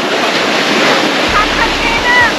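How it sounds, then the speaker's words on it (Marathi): Sea surf washing in at Devgad beach on the Konkan coast of Maharashtra, a steady broad wash of waves with some wind rumble, moderately loud and continuous without talk. "तर हा आहे देवगली बीच"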